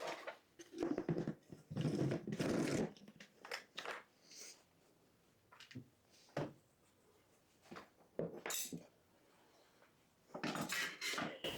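Dishes and cutlery clatter and clink in a home kitchen as they are washed, in close, irregular bursts of scraping and knocking with brief quiet gaps between.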